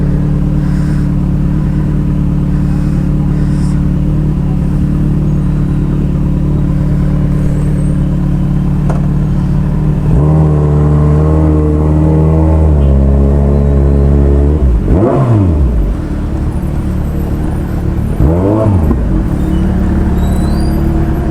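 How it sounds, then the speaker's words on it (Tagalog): Road traffic in Mamatid, Cabuyao, Laguna, with a steady, loud engine rumble from nearby vehicles and several distinct revving surges that rise and fall in pitch as engines accelerate and pass close by. "Traffic pala dito. Sobra."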